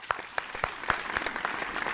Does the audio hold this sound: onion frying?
no